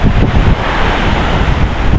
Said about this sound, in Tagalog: Ito yung dagat nila.